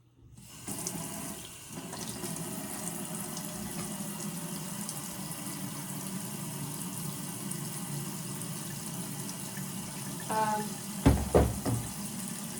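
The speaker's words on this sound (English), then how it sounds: "which means we wash our hands" Kitchen tap running steadily into a sink for several seconds while hands are washed under the stream, ending with a few clunks and splashes.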